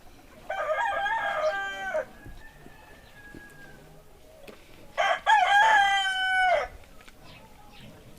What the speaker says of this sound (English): If I raise chickens again, I'm going to have the roosters be far away in a place that has trees all around it